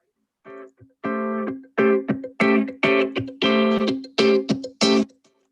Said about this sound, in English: the guitar pattern on the right